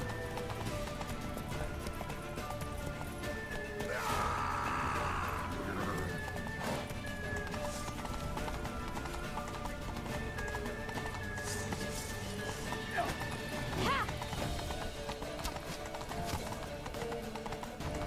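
Rapid clip-clopping hooves of a galloping horse in the video game The Witcher 3: Wild Hunt run steadily throughout, with a whinny and scattered crashes over a busy, noisy background.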